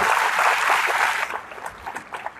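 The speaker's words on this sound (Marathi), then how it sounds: "टाळ्या वाजून घ्या" An audience at a Marathi motivational speech claps together in a dense, steady burst of applause that ends abruptly, leaving a few scattered claps in a quieter hall.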